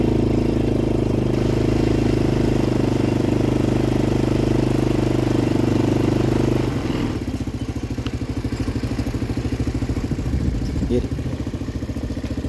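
A motorcycle engine idles steadily nearby, a rough low rumble that drops to a lighter putter partway through.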